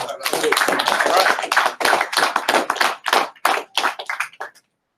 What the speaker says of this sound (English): Clap it up now.